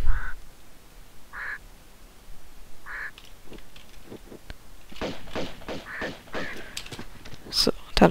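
Several short, nasal quacking bird calls from Tomb Raider II, Barkhang Monastery level, sound in sequence, followed by a busier stretch of thumps and clattering noises.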